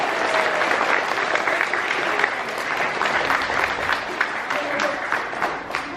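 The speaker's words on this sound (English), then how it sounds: "could you please give Enoch a huge round of applause?" A school assembly audience claps steadily and loudly throughout, dense applause with occasional voices and cheers mixed in.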